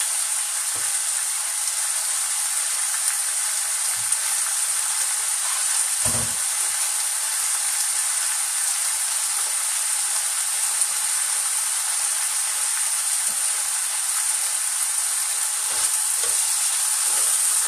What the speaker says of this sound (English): when you put the zucchini in there, then it starts evaporating the water right away